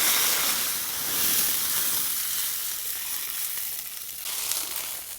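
Water poured into a hot kadhai of oil with spluttering mustard seeds and cumin, bursting into a loud, dense sizzle and hiss that holds steady and then eases slightly, with no voices.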